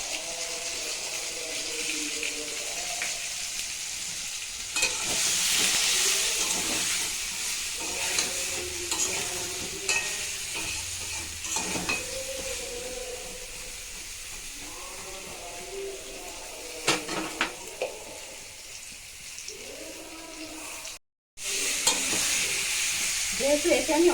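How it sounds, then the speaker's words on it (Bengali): Pointed gourd (patol) fries in a pan with turmeric and a little oil, a steady close sizzle broken by repeated scraping stirs of a spatula, continuing on its own without talk. "যেহেতু এতে আমি অনেক তেল দিয়ে ভাজছি না, সেহেতু গ্যাসটা কমিয়ে একটু ঢেকে ঢেকে ভাজবো, যাতে পটলটা নরম হয়ে যায়"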